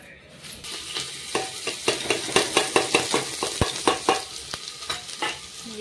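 Onions fry and sizzle in a pan while a utensil stirs them in quick, regular scraping strokes, close and fairly loud over a steady crackle, with no talking.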